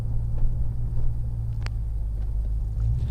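A Ford F-150 pickup truck engine revving and pulling as it accelerates, a steady loud low rumble with a brief sharp higher note partway through.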